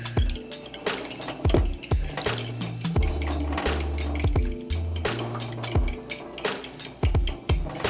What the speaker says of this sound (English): Now we're going to whisk the eggs.